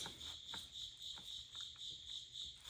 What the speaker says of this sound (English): I am sorry about these crickets.